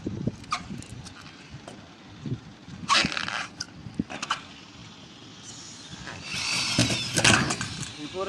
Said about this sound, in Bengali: এই স্ক্রু মেশিনটা যেমন এইভাবে মারতেছি